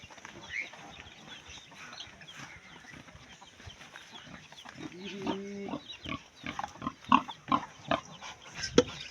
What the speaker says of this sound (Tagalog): Ito tayo, pagkain tayo sa ating Mama Pig.